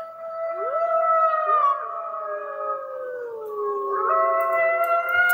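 Wolves howl in a layered chorus, several long rising and falling tones overlapping and sliding across one another, loud and sustained throughout with no talking.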